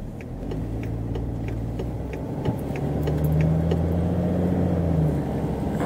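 A postman's van drives past on a street, a steady mid-loud engine hum with a rising tonal whine as it passes nearby, no talking.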